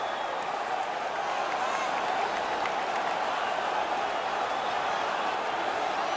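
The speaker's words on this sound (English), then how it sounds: "The crowd is all over them right now." A steady roar of a hockey arena crowd in NHL 19 during a Slovakia versus Great Britain international match, a constant wash of cheering and murmur that holds at an even level throughout.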